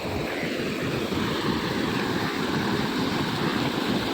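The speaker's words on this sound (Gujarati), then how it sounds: "હાલો તમને બતાવું એકદમ ધોધ કેવો નીકળે" Rainwater gushing hard out of a pipe during rain in a rural village yard, a steady, loud broadband rush of splashing water that runs unbroken throughout with no talking.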